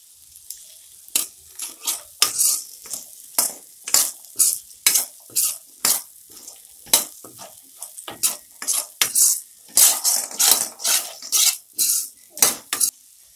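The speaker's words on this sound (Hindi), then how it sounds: "मिर्च पाउडर डालने के बाद भी हम एक मिनट तक इसी तरह से इसे स्टर करते रहेंगे मिलाते रहेंगे" A spoon stirs chana with chili powder in a pan over the gas flame, giving quick repeated metallic scrapes and clinks in an uneven rhythm, close and clear with nothing else heard.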